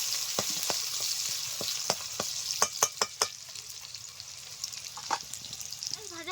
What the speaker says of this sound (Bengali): এখন দিয়ে দিচ্ছি পেঁয়াজ পেঁয়াজটা হালকা করে ভেজে নেবো